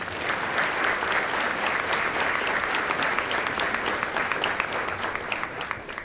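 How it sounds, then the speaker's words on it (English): A crowd at a high school football banquet applauds school board members, a steady, full round of clapping throughout that tapers slightly near the end. "we want to give them a big round of applause"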